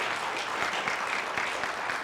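Steady, dense applause from a conference audience following a speech at a college, continuous and fairly loud throughout with no speech over it.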